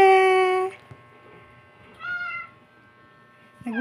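A clingy pet cat meows close by, with one long loud meow followed by two shorter ones over low background noise.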